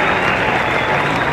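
A stadium crowd at the 1992 cricket World Cup match, Pakistan against South Africa, keeps up a brief, dense burst of clapping and cheering for Pakistan, steady and loud from start to finish.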